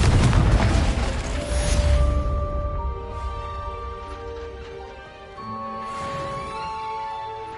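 A Confringo blasting spell in Hogwarts Legacy bursts in a greenhouse with a loud explosive boom that decays into a ringing rumble, followed by softer tonal after-sounds and faint crackles.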